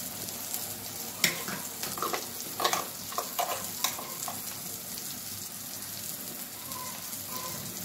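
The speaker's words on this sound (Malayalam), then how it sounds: "ഇനി നമുക്ക് അരപ്പ് ഇട്ട് കൊടുക്കാം." Ground coconut paste hitting cooked pineapple in a hot pan for pachadi, a soft steady sizzle with scattered crackles and stirring scrapes, quiet and close, no voices.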